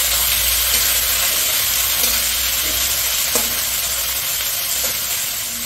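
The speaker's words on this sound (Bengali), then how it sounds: "পেঁয়াজটা একটু ভাজতে হবে।" Onion frying in a pan after the whole spices have been tempered, for a meat dish, makes a loud, continuous sizzle and hiss with a few faint stirring knocks; no voices.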